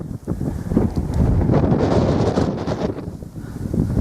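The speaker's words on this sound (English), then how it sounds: "It's getting quite windy and a lot more cold." Strong gusting wind near a mountain summit buffets the microphone in a loud, rough roar that swells and eases, with no voices.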